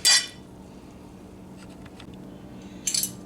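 A fork clinks and scrapes against a crockpot while shredding slow-cooked beef tongue, with two sharp metallic bursts at the start and end and faint soft scraping between them, heard close and without talk.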